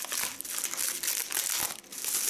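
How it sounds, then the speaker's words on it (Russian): Packing tape is pulled off a tightly wrapped parcel, making a close, continuous crackle of crinkling and ripping plastic in uneven bursts. "Я даже этот скотч отсобачиваю."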